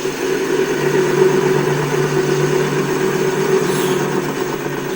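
A 9craft 210Ex600 metal lathe runs steadily, its motor giving a constant, close mechanical hum and whine with a faint tonal drone and slight vibration throughout, with no talking.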